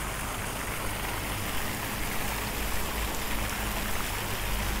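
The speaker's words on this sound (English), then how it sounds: "Beautiful little water fountain." A small outdoor water fountain near the Friendship Bridge at Chiang Khong, Thailand, splashes continuously in a dense, steady wash of falling water, with no talk over it.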